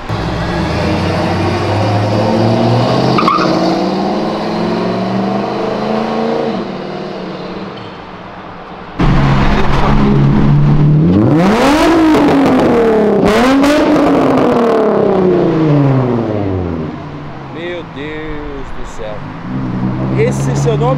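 A Nissan 350Z engine revs hard while drifting on a city avenue, rising and falling in pitch, roaring loudly through several surges, with voices faintly underneath.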